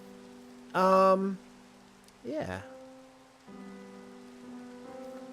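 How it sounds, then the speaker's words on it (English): Rain falls in the Minecraft video game as a steady, soft hiss beneath brief chimes and tonal game effects, with a single short spoken word from a player. "It's still raining, huh?"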